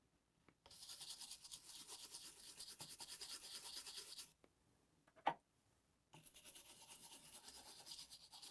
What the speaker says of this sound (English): I'm going to use some isopropyl alcohol and a toothbrush and just get that corrosion off of there.